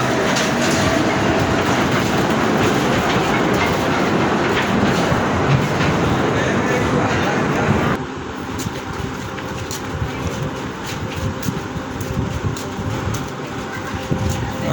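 A mine train rumbles and rattles along the rails up close inside the Khewra salt mine in Pakistan, the clatter easing slightly midway but continuing throughout.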